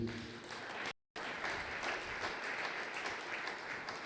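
A church congregation applauds and cheers at a Sunday thanksgiving praise service, a dense, steady crowd clapping that drops out for an instant and then carries on evenly.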